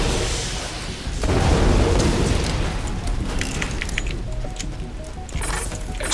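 An explosion in the video game Borderlands 2 near a fuse box in the Hyperion game reserve: a loud boom that swells after a second into a sustained rumbling roar, then fades into softer debris crackle.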